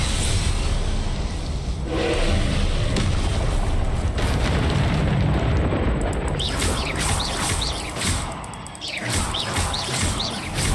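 Confringo fire spell bursting in Hogwarts Legacy, loud booming blasts rumbling over dense game noise, with chirping bird-like effects rising near the end.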